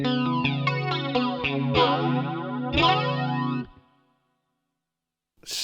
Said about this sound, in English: You can certainly get those sort of really liquid flanging tones.